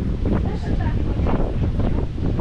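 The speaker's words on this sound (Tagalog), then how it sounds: "Lakas ng hangin ah." Strong wind buffets the microphone outdoors in a rural Philippine village, a loud continuous low rumble with gusty surges throughout and no clear voices.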